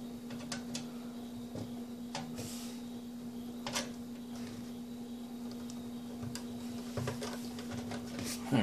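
Screws driven in by hand to secure a power supply in a Fractal Design Arc XL mid-tower PC case, with faint scattered ticks and light clicks over a steady low electrical hum, no speech.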